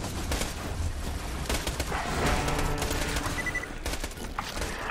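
Rapid, dense bursts of E-Tech gunfire from the video game Borderlands 2 sound near and continuous, with energetic crackling shots layered over a busy game soundtrack, with no talking.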